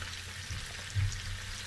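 Onions frying in a pan, a steady close sizzle with crackling hiss throughout and a brief louder pop near the middle, no talking.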